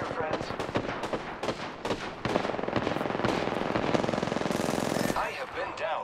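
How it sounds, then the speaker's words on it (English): Automatic weapons fire in the video game Apex Legends, with rapid close bursts of gunshots crackling almost continuously under a busy game mix. "Shots fired, and they're hitting me."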